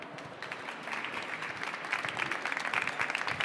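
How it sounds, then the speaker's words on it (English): Audience applause at a climate and hunger pitch competition event, starting moderate and building into fuller, denser clapping toward the end, heard at some distance with no talking. "we need to keep on practicing that applause here"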